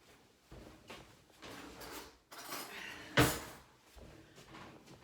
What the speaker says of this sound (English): Let me get a clean spoon.